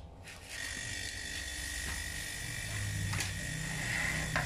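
A refrigerator compressor under test with a clamp ammeter switches on and settles into a steady close mechanical hum with a faint ratcheting buzz and a high whine, running alone without talk.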